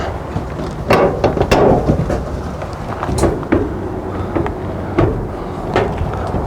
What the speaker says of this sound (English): Now we get to clip the front panel back on